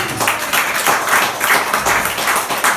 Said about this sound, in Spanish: Ese aplauso que sea para ti